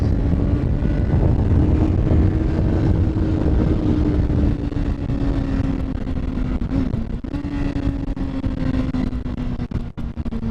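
Engine of a 2019 Honda CBR650R motorcycle under riding, a steady loud drone with a gradual pitch sweep and brief dips suggesting gear changes through the slipper clutch, with wind noise throughout.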